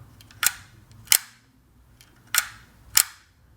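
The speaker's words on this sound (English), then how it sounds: "bulb will hold it open as long as you hold the shutter button down" A Holga 120CFN plastic medium-format camera's shutter snaps four times, in two pairs of sharp, close clicks with a pause between the pairs, heard alone without talk.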